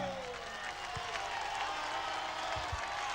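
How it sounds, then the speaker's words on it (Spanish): A concert audience applauding at a 1998 show in Villa María, a steady wash of clapping and crowd noise throughout, with a fading tone at the start. "el pueblo que está vibrando y que está aplaudiendo al ídolo de siempre"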